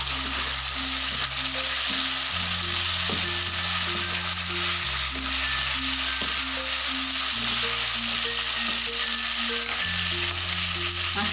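Anchovies frying in a pan with chayote squash, a loud, constant sizzle with stirring, heard over a steady musical background and no talking.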